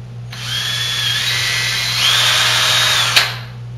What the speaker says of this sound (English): We use an 18-volt drill with a clean and sharp 5/16 drill bit.